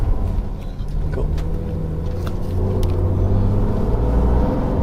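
A Brabus-modified Maybach S650 with a 630-horsepower engine drives along a road, giving a steady low rumble of engine and tyres from inside the car, with no talking.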